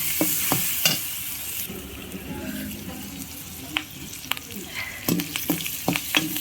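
A bottle gourd curry with garlic paste fries in a pan with a soft, steady sizzle, broken by sharp scraping and clinking as a spoon stirs it at irregular moments.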